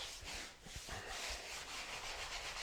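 Steady, close rubbing and sanding on a floor leveling compound patch, a continuous soft abrasive scrub with slight rhythmic variation and no voices.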